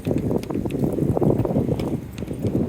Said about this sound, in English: And the wind is blowing like crazy.